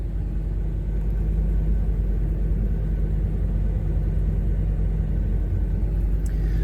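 A 1988 Chevy OBS pickup truck engine idles steadily at close range, a continuous low rumble with no revving or change in pace throughout.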